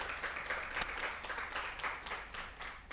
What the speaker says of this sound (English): Let's do a round of applause for you.